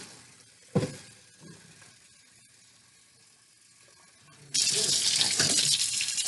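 Rice is swished and rinsed by hand in water for a hot chicken and rice dish, giving soft close sloshing with a sharp splash near the start, then louder running water at the end.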